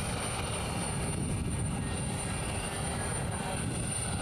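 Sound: Il-76 military transport plane landing at airfield

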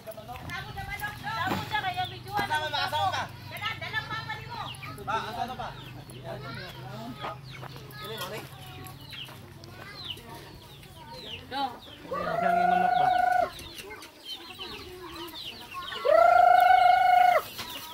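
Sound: chickens clucking

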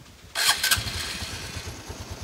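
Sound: motorcycle engine starting

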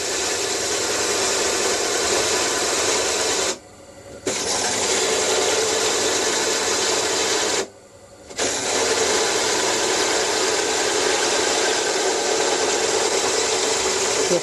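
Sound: cutter cutting through metal

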